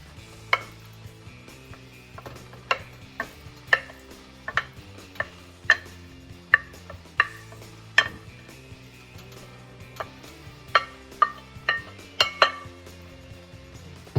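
A spoon clinks and scrapes against a pot as rabbit stew is stirred, in a sequence of sharp metallic taps spaced unevenly over a quiet, low background.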